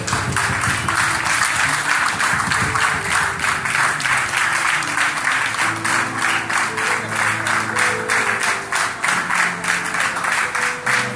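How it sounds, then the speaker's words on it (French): Guests at a church wedding ceremony give sustained, loud applause, a thick steady clapping with a low murmur and tones underneath that runs unbroken for about eleven seconds. "Je vous demande de les applaudir, s'il vous plaît."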